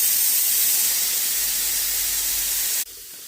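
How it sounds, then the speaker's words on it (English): A SilverCrest hand-held steam cleaner vents steam in a loud, steady hiss that runs for nearly three seconds, then cuts off abruptly into near silence. "we need to release all the steam from the machine"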